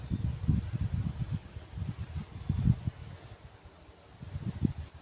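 Gusty wind buffets the microphone in low, uneven rumbling bursts, rising and falling over a few seconds.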